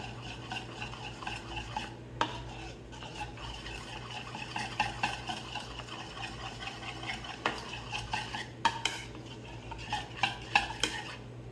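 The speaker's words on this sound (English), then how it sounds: "says whisk this, but I'm just gonna use this spoon" A spoon beats fritter batter in a bowl, quick scraping and clinking strokes in an uneven rhythm, close and fairly quiet, with sharper taps against the bowl now and then.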